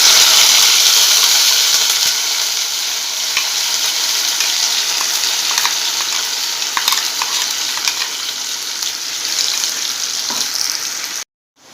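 Tomato frying in a ground paste of ginger, garlic, onion and poppy seed, a loud, close, continuous sizzle with light stirring scrapes, cutting off abruptly at the end.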